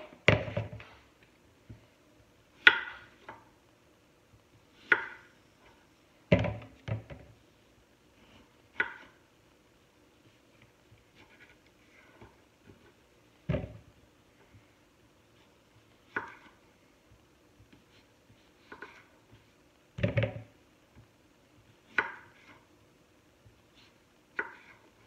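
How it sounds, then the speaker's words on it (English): A knife cuts potatoes into fourths on a board: sparse, irregular thunks and knocks, quiet and isolated, with silent gaps between the cuts. "Next, we're going to cut our potatoes into fourths"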